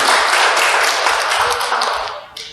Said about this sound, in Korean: 제 말 맞으면 박수 한번 쳐보세요